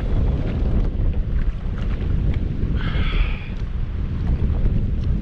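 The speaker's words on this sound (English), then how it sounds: "Windy." Strong wind on the Lake Erie shore ahead of a storm, a loud continuous roar buffeting the microphone with no letup, and a faint brief whine in the middle.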